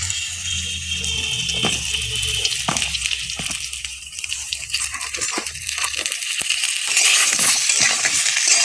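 Cut pointed gourd (potol) slices frying in a little oil with salt in a pan for a vegetarian potato and potol curry; a steady close sizzle with stirring scrapes and clinks, no talking.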